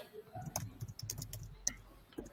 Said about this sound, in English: The technical supporter is typing here.